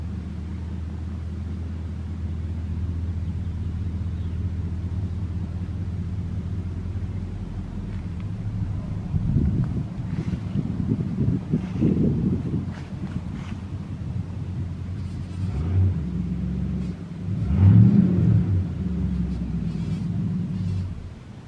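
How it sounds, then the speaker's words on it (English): A car passes near a backyard, heard as a low, distant rumble that swells gently twice over faint wind noise, with no talking. "And that car noise is"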